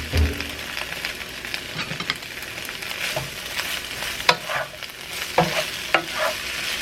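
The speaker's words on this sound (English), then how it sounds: "So now I just add my green beans to this hot skillet." Green beans fry in hot oil in a skillet, a constant close sizzle with occasional stirring scrapes and pops, with no voices.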